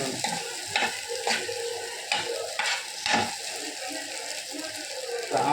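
Masala-coated potatoes being sautéed in a pan for coconut rice, with steady close sizzling and repeated sharp scrapes and stirs of a utensil against the pan.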